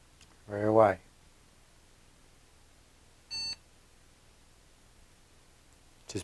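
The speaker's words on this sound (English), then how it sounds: "Just beeping now, trying to bind." A short electronic beep from an RC receiver trying to bind sounds about halfway through after a brief vocal noise, with another faint blip at the very end, over quiet background hiss.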